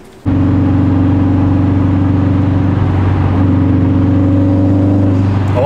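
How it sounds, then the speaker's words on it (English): Subaru STI starting to drive and rev, its engine kicking in abruptly and then holding a loud, steady drone with slight pitch shifts, heard close from inside the car. "Let's take a ride in this STI."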